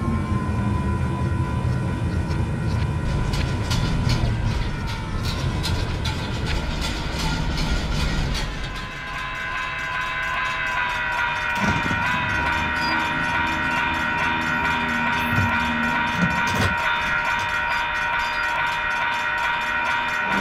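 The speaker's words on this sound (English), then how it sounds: "This is an Amtrak American bullet train to Boston South Station." An Amtrak train bound for Boston South Station rolls past on the rails, a loud, continuous rumble with clattering wheels and a sustained tonal hum, no talking.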